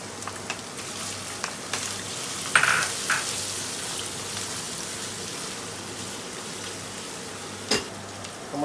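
Crushed ginger and garlic sizzle in hot spiced oil for Kerala-style fish biryani, a steady close hiss with a few scattered crackles and pops throughout.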